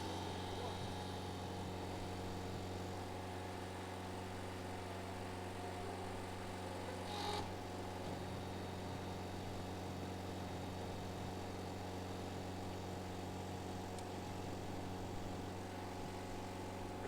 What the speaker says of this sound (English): we'll turn the pug mill so you can see in there. It spins in 2 directions.